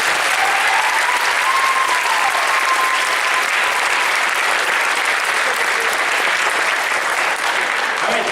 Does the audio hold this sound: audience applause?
yes